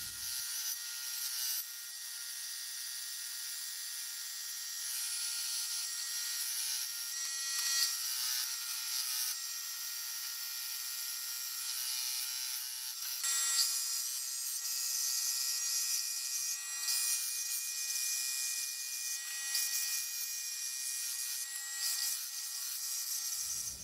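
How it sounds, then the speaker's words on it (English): A bandsaw blade runs steadily through wood as a hatchet handle is cut out during an Estwing hatchet restoration, giving a continuous close rasping whir with slight variations in pitch and no speech. "I'm gonna cut this out on a bandsaw."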